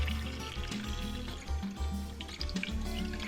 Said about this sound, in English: Add more water to the pot.